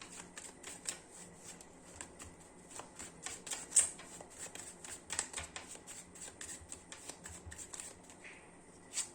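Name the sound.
tarot cards being shuffled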